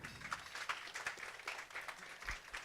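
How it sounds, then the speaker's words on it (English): Audience applause for a guest speaker at an evening science cafe talk, a steady patter of many hands clapping at moderate, fairly distant level for a few seconds. "Can I get a big round of applause for Chris Impey?"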